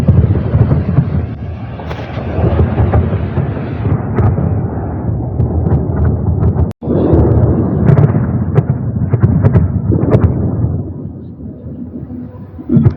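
Deep booming thuds of distant explosions, likely drone strikes or air defence, roll in from far off outside a city, a rumbling series layered over a steady low background hum.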